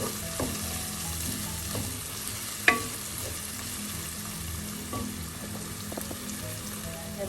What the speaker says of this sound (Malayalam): അര ടീസ്പൂൺ മഞ്ഞൾപ്പൊടി ചേർക്കാം. അത് ഈ ഓയിലൊന്ന് കിടന്ന് മൂക്കട്ടെ.